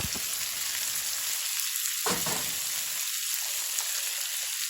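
Celery and carrots fry in a pan for bolognese, giving a steady, bright sizzle throughout with a few soft stirring scrapes and clicks, and no voices.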